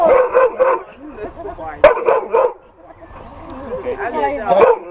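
Several dogs nearby yip, whine and bark in uneven bursts at a vintage tractor ploughing event, with a sharp knock partway through and a rising chorus near the end.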